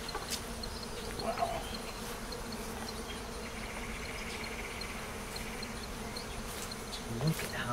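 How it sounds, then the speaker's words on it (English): A dense, steady buzzing of many bees at an open hive fills the whole stretch, close and continuous, with a few brief louder passes near the end. "look at how many bees we have."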